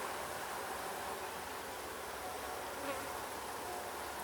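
Honeybees in an open hive, some of them very light-coloured, hum in a dense, continuous close-up buzz with no pauses.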